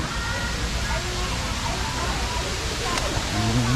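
Steady broadband rush of water at the Sai Yok Noi natural waterfall, a constant near roar filling the whole stretch, with faint voices and chatter mixed beneath.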